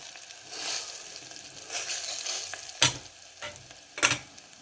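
Onions browning in a pan with turmeric, a soft steady sizzle broken by a few sharp scraping stirs.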